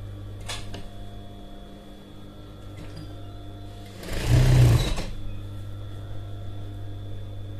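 A sewing machine stitches a single duvet cover set with frilled trim, giving a brief loud burst of rapid mechanical whirring about a second long over a steady low motor hum, close up with no talk.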